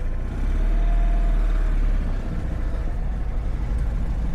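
The two-cylinder engine of a Citroën Ami 6 runs at a steady, low idle close by, giving a continuous deep hum with no voices over it.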